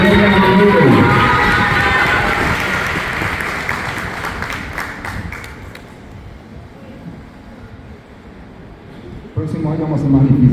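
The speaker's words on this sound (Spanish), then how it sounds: "Un fuerte aplauso para la medalla de oro" Loud crowd applause and cheering for gold medal winners at a Guarani language olympiad school ceremony, dense and sustained at first, thinning out midway, then swelling again near the end.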